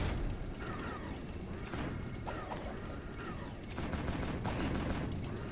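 Weapon fire in the video game Jak 2, a dense rattle of rapid shots and mechanical clacks running throughout over a busy, constant game soundscape with no clear voices.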